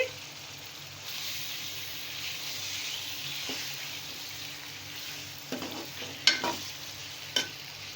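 Half a kilo of chicken, washed with vinegar and salt, is stirred and fried in a pan for chicken korma, a steady sizzle with scraping spoon strokes and clatters near the end.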